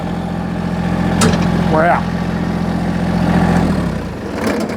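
A Massey Ferguson GC1725 compact tractor idles with a steady low chugging drone close by, a brief whine rising midway, and a voice speaking over it.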